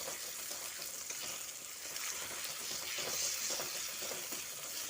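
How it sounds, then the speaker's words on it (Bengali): Beaten egg frying in hot oil, being scrambled into a bhujia for a pointed gourd and egg dish, giving a steady, close, bright sizzle and crackle throughout with no talking. "তারপর এই তেলের মধ্যে দিয়ে দিচ্ছি। দিয়ে ডিমটাকে একটু ভুজিয়া বানিয়ে নিতে হবে।"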